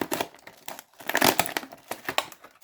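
A bubble-wrap parcel holding a 3D-printed item is unpacked close up, giving short irregular bursts of crinkling and rustling plastic with brief pauses between them.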